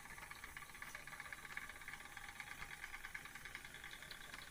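Faint steady hiss of steam escaping from the drain cocks of a small steam engine in a steam power plant, with a light rhythmic mechanical pulsing underneath.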